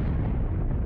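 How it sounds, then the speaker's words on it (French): Distant artillery cannon fire on a World War I Verdun battlefield, a continuous deep rumbling boom that stays loud and steady throughout with no talk. "Le bruit du canon se faisait de plus en plus fort"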